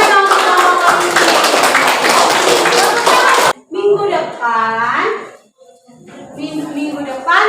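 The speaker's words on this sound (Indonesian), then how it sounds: "Tepuk tangan dong kelompok polisi." Children clapping in a classroom for the police group, a burst of busy, overlapping claps that stops abruptly and is followed by a teacher speaking.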